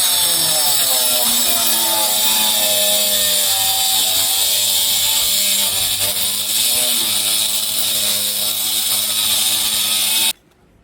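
A power saw grinds through a hard nano white granite slab with a loud, steady, high whine that holds for about ten seconds, then cuts off abruptly.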